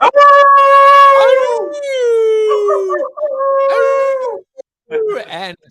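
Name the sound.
person imitating a wolf howl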